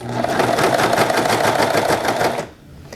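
A serger sewing machine runs loud and steady, stitching a circular seam around a reusable make-up removal pad, its rapid mechanical whir continuous before stopping abruptly near the end.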